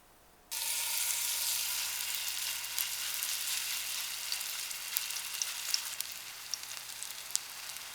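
Bacon cheese mung bean pancake (bindaetteok) at a Daegu night market drops into hot oil after a quiet moment, then fries in a steady bright sizzle sprinkled with sharp pops and crackles.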